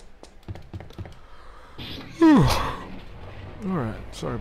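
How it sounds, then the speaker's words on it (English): A loud, drawn-out human yawn that rises suddenly, sweeps downward in pitch and trails off, with a few quiet keyboard taps before it. "Didn't mean to yawn so loud."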